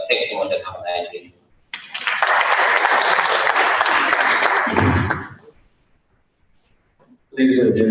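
Sustained audience applause at a youth internet governance forum in Nigeria, a dense burst of clapping lasting several seconds and then fading, framed by brief speech before and after.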